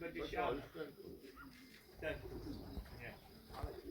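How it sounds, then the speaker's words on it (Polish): A flock of racing pigeons passes during a race release, heard as faint flutters and soft coos amid outdoor wind, while someone talks over them. "Tu idzie grupa gołębi."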